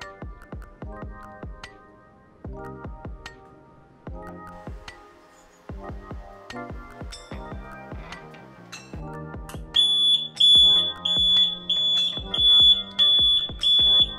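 A DH48J-8 counter sounds its alarm buzzer once the set count is reached: a series of sharp clicking taps gives way to a loud, repeating high-pitched electronic beep.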